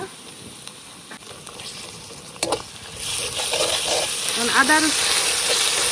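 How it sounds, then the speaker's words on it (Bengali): Onions fry with ginger-garlic paste in a pan for a village-style country chicken curry; a soft sizzle swells into a steady hiss after a few seconds while someone speaks over it. "আদা রসুন দ্বারা একটু পেঁয়াজের সাথে ভাজতে দিলাম।"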